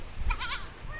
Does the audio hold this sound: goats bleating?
yes